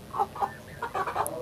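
Chickens sick with chronic respiratory disease (CRD) cluck in a short, close burst of several raspy calls, with a faint, harsh breathy quality and no talk.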